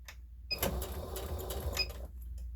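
A sewing machine back stitching across the outer fabric at the bottom of a child's tote bag, a steady close mechanical whir of rapid needle strokes running for about two seconds between short pauses.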